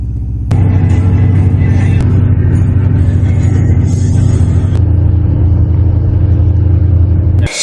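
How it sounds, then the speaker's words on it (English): A van on the road during a winter storm, its engine droning steadily with a low, loud road rumble; a sharp shift near the start and another midway, with no voices. "you're just going to see clips of us driving"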